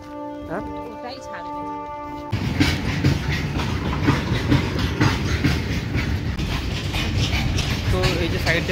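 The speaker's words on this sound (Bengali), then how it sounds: "তো এই যে সাইড দিয়ে একটা ট্রেন যাচ্ছে দেখছো।" A train passes beside a level crossing: after a couple of quieter seconds, a loud, steady rumble with rhythmic clickety-clack of wheels on rail joints fills the rest, close by.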